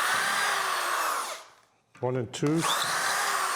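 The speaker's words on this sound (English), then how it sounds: "So now I'm going to drill this first one just to let you see." Power drill boring a dowel hole through a Dowelmax jig for a nightstand build: a loud, steady whine that dies away, a brief spoken count, then the drill spins up again close by.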